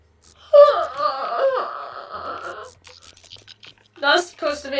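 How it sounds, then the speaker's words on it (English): A strained, wavering yawn-like groan plays as a character sound effect in an animal-hospital horror video game, drawn out for about two seconds, followed by quieter gasps and a voice speaking. "That's supposed to be a yawn."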